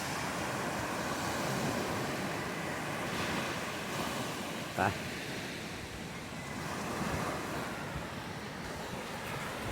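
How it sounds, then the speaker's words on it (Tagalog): Sea waves washing on a beach shore, a continuous loud surging roar mixed with wind buffeting the microphone, with a brief knock near the middle and a voice saying a word. "Ganda ng dagat guys,"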